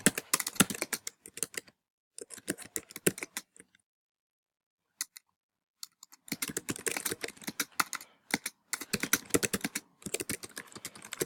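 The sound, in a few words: typing an assignment name on a computer keyboard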